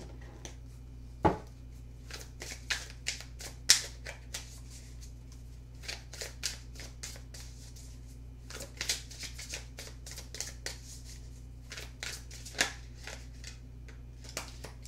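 Tarot cards shuffled by hand at a reading table, a long series of quick riffling bursts and soft snaps in uneven rhythm, close and clear over a low steady hum with no talking.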